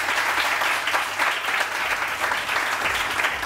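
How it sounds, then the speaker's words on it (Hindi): Studio audience applause on a Pakistani morning talk show, a dense steady wash of many hands clapping close and loud, continuing evenly throughout with no talk over it. "सो आप लोग अपने लिए भाई तालियां हो जाए अपने लिए।"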